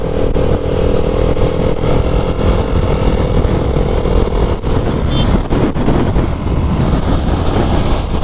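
A KTM RC 390 motorcycle rides along a mountain road, its engine a steady, close, loud drone blended with constant wind rush for the whole stretch, with no speech.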